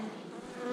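Honeybees buzz densely around hive frames during a hive inspection, a close, steady, continuous hum with no pauses, heard alone.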